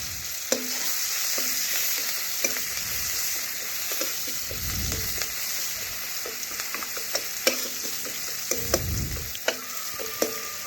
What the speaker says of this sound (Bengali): দিলাম 5 ফোড়ন, গোটা জিরে, শুকনো লঙ্কা ও পেঁয়াজ কুচি। পেঁয়াজ একটু ভালোভাবে ভেজে নিচ্ছি